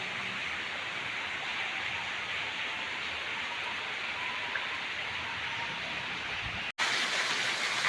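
Heavy rain pours on a house, with water streaming off the rooftop terrace; a dense, steady hiss fills the whole stretch, broken by one brief dropout near the end before resuming just as loud.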